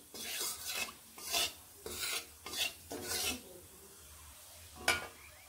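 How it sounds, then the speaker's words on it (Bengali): Black cumin seeds stirred in hot oil in a pan for a koi fish curry, heard as several distinct scraping, rasping strokes in an irregular rhythm, close and moderately loud, with one sharp scrape near the end and no talking. "কালো জিরে দিয়ে কালো জিরেগুলোকে এইভাবে নেড়ে নিচ্ছি"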